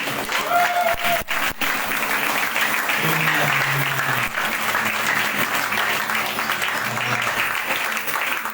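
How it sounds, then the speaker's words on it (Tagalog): Congregation applause during a Sunday worship celebration, a loud, dense wall of clapping that runs throughout, with a few brief tones and crowd murmur beneath. "Yung palakpak para kay Lord."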